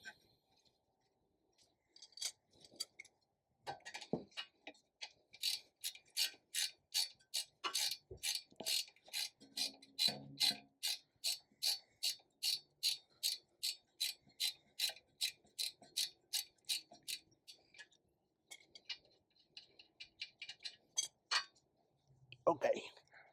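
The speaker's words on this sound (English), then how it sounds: "19 wrench. Remove that screw." A 19 mm ratchet wrench works a screw loose on a Honda HR-V lower control arm, clicking in a long, rapid, even series of ratchet strokes, close and crisp, with brief speech and clinks around it.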